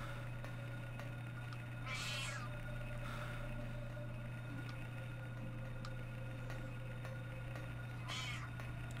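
A cat meows in a Silent Hill PlayStation game, with short meow calls around two and eight seconds over a steady low background hum.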